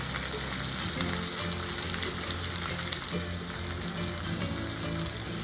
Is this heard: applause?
no